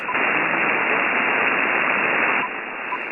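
Ham radio receiver on the 10 meter band with noise reduction switched off, giving a loud, steady wash of band-limited static hiss that drops slightly near the end, with no voices.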